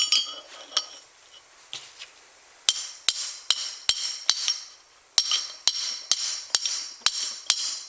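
A hammer drives a part out of a Ford 9 inch differential during a locker install: sharp metallic blows ring out, a few scattered at first, then two quick runs of about a dozen close, clanging strikes.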